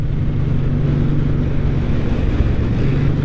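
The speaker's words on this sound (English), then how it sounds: "It's got a deep rumble to it. Just going down the road here, I kind of like the exhaust." A 2023 Suzuki Boulevard M109R B.O.S.S. cruiser motorcycle rumbles steadily while riding down the road, a deep, loud, continuous low exhaust drone mixed with wind noise, no talk.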